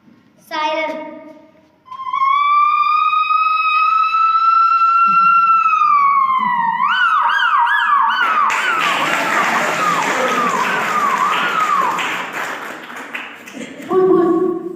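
A child vocally imitates a siren, a loud rising wail held steadily before breaking into a rapid warbling yelp, closing with a brief exclamation.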